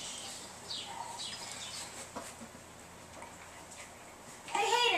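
Faint chirping bird calls, a few short upward notes scattered over a quiet background, with a louder burst of calls at the end.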